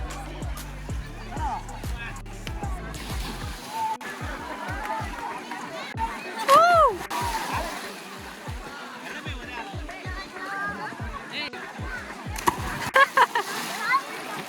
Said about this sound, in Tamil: குதிங்கடா நீ குதி ஆசி.